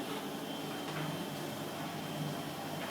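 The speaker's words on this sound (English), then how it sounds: "You can hear the dryer working now." A Candy Grando tumble dryer runs with a low, steady mechanical hum and faint whirring, quiet and unchanging throughout.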